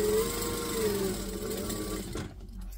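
Close-up whirr of a sewing machine stitching a bag's lining, running steadily for a couple of seconds and then stopping abruptly.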